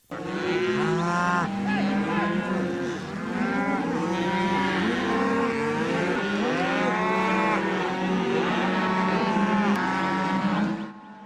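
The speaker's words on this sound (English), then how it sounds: "Bring our cows right through the town of Carbondale" A herd of cattle driven through the streets of Carbondale, moos overlapping loudly and continuously from many animals at close range, a dense lowing chorus lasting throughout before cutting off at the end.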